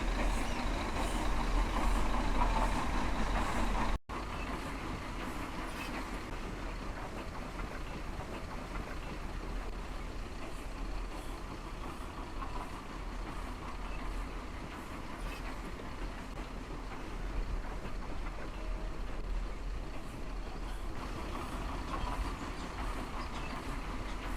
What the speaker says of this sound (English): Back the train up.